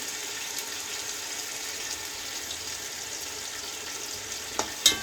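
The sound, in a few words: yogurt added to frying tomatoes and chicken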